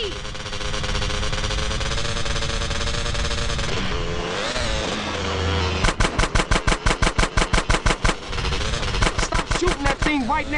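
Rapid bursts of gunfire crackle in GTA San Andreas, loud and close over a revving car engine and a game soundtrack, with voices speaking underneath.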